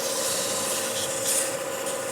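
Steady, close abrasive rubbing as sandpaper works the outside of a fresh-cut wooden turning on a lathe, continuous and even with no talk.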